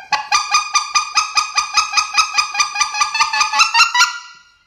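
A polyurethane RSS 5/8 goose call imitating a white goose gives about eighteen loud, evenly spaced honks up close in a brisk rhythm, then stops abruptly and trails off.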